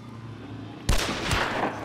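A gunshot in the video game Hunt: Showdown, one sharp loud crack followed by a second blast a moment later, each with a booming tail, after a quiet low hum.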